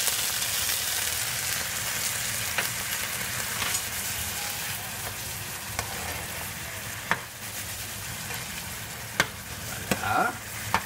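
Veal kidney frying in a pan with mustard and coconut milk, a steady close sizzle with scattered clicks and scrapes of stirring, continuous throughout.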